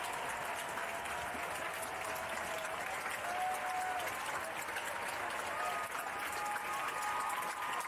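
A packed protest crowd in Times Square, New York, cheers and claps in a continuous dense roar that stays steady and loud throughout, with scattered voices mixed in.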